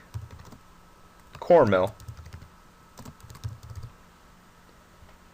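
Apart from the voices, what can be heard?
typing on a computer keyboard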